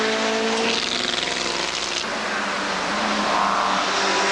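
TVR race car on a circuit during a motorsport race, a loud, sustained engine roar passing close by, with the pitch shifting as it goes past and no voices.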